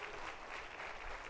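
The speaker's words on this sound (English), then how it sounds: "Round of applause to the great editors" An audience at a talk on comedy and behavior change applauds, a brief, steady burst of many hands clapping heard from a moderate distance.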